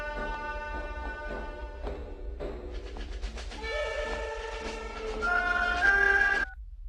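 A telephone rings for a minister, sounding as repeated melodic electronic tones that grow busier and louder before stopping abruptly, with no talk over them.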